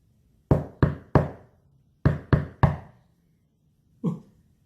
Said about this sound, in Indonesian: Tiba-tiba terdengar suara ketukan di pintu.